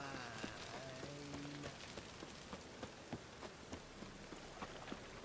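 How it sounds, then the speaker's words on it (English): Steady rain falls in the video game The Witcher 3, a dense even hiss scattered with small ticking drops, with faint low tones sounding briefly near the start. "Rain, I like rain."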